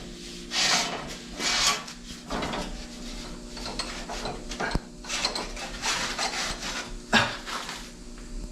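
Super slippery plastic slider being pushed onto a metal strip tack-welded to the bottom of a homemade snow track, giving several close, rough scraping and rubbing bursts with a sharp knock partway through.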